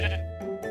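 Sheep bleat in the video game Minecraft, giving two or three short, nasal baa calls in quick succession that sound close and fairly loud.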